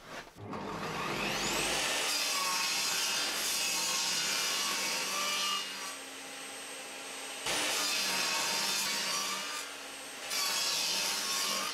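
A saw cuts through wood while building a coffee-bar drawer: loud, sustained rasping that runs for several seconds at a time, broken by two brief pauses, close up and with no talking.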